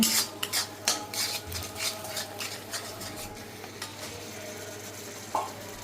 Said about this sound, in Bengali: ভালো মতো নাড়ায় চাড়ায়